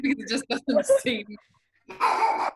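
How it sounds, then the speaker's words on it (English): A dog barks in a short, loud burst indoors, right after a stretch of a person talking, then a pause. "sorry, that's my dog."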